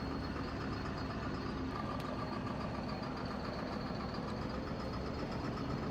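A Mack truck engine idles in Farming Simulator 19 with a low, steady rumble and a faint higher whine, running continuously without any talk.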